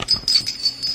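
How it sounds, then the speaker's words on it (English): Crickets chirping in steady, closely spaced high pulses, a short continuous insect trill at moderate level with no voices. "We heard crickets."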